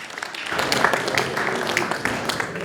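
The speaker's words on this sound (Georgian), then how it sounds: "აპლოდისმენტები" Applause from a press conference crowd for MMA fighters at a face-off, a burst of clapping that starts suddenly and continues steadily, fairly close, with scattered louder claps.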